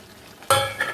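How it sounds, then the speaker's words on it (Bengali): Chopped onions tipped into a pot of homemade dhaba-style chicken curry and stirred, a sudden loud clatter and scrape of utensil against metal after half a second of quiet, then a continuing sizzle with a few clinks. "এইবার এর মধ্যে দিয়ে দেবো এই যে পেঁয়াজগুলো যে কুচিয়ে রেখেছি, সেই পেঁয়াজগুলো দিয়ে দেবো।"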